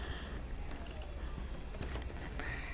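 A computer keyboard is typed on close by in a quick run of light key clicks over a steady background hum, while someone talks.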